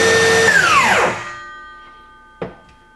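DeWalt Flexvolt 60V cordless circular saw (DCS578) whining close up, then its electric brake winds the blade down in about a second, followed by quiet and a single thud.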